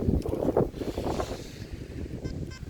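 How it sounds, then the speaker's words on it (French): Steady gusting wind buffets the microphone, a low rumbling roar that rises and falls with no voices. "le vent il se lève là"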